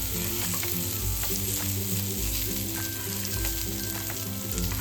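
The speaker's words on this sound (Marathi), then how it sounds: "फिश फ्राय करायला ठेवलं होतं." Semolina-coated fish fries in oil in a pan, a close, steady sizzle and crackle running unbroken with a low background hum and no talking.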